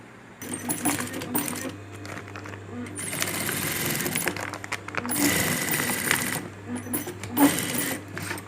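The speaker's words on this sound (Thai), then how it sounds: "เราจะไปเย็บตามเส้นที่เราขีดไว้เลยค่ะ" A sewing machine stitches a bag made from a pet-food sack in loud, rapid bursts with short pauses between runs. A quiet voice talks underneath.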